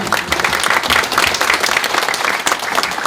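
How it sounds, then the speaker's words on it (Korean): Warm applause at the opening ceremony of the 2024 disabled football league as guests are introduced, a loud, dense crowd clapping continuously for three seconds with no speech over it. "여러분도 뜨거운 박수로 화답해 주시면 감사하겠습니다"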